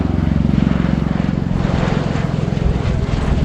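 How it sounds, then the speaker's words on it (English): A USAF CV-22B Osprey tiltrotor flying a display at RIAT 2019, making a loud, close, pulsing rotor thump and engine roar that runs steadily throughout. "A quick climb away there to about 500 feet, and there's the transition to aircraft mode again."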